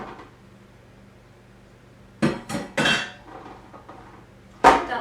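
About two cups of washed cherry tomatoes tumble into a baking dish, landing in a few loud hard clatters and knocks separated by quiet gaps, with a final sharp clunk.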